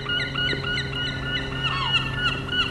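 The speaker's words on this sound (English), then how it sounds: "Some noisy birds." Several birds call repeatedly in bright, chirpy bursts over a steady low hum at a graveyard in Scotland, fairly close and continuous.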